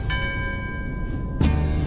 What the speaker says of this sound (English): He calls the fish by hitting the underwater bell.